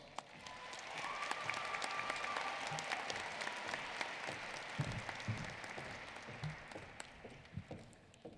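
Sustained audience applause fills a Greenway High School Class of 2021 graduation ceremony, a steady, even wash of many hands clapping from start to finish without letting up.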